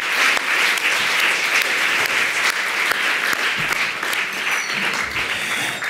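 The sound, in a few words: audience applause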